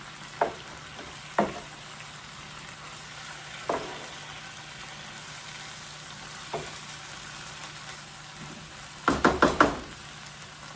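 Fish frying in a pan with shrimp paste, a steady soft sizzle underneath, broken by a few sharp clatters and a quick cluster of knocks near the end.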